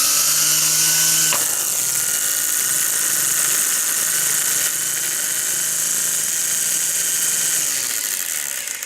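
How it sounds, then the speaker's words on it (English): Ryobi One+ 18-volt brushless cordless string trimmer spinning at its low speed setting while advancing the line, a loud steady electric motor whine with a brief bump in pitch early on, no talking. "At the low speed setting, if you want to advance the string, this is what happens."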